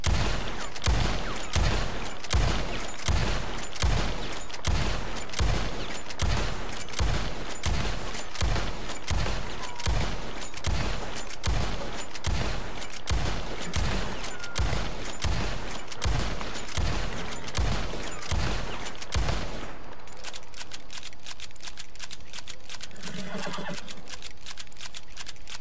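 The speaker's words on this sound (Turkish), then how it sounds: "Buradan Evens Repeater'a geçiyorum." An Evans Repeater rifle fires in the video game Red Dead Online, loaded with 26 rounds: a long run of evenly spaced, loud cracking shots for about twenty seconds, then sudden quiet with faint game ambience.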